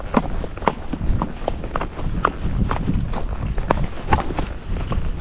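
Hooves of a Missouri Fox Trotter horse walk over rocks with an uneven, clattering clip-clop of near, overlapping hoof strikes.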